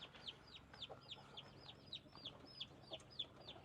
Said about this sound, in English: He moved the chickens.